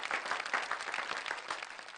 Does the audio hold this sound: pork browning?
no